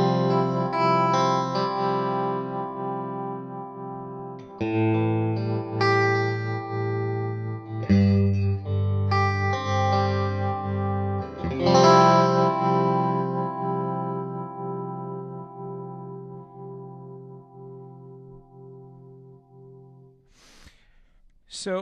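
A Flux Effects Liquid Tremolo pedal run at a slowed rate, its sustained chords swelling and pulsing slowly over about twenty seconds, loud and close, before the tone fades out near the end.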